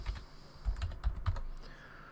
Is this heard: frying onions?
no